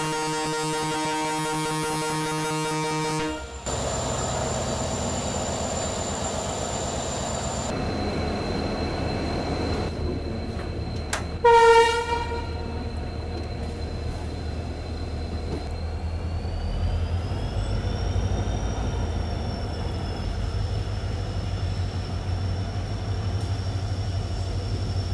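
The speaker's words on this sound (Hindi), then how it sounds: "डीजल लोकोमोटिव हॉल कर रहा है हमें पूरा एंड टू एंड" An EMD diesel locomotive hauling a passenger train on a route near the Bhutan border gives a long, loud horn blast. A steady rolling rumble of the carriages follows, with a brief metallic squeal partway through.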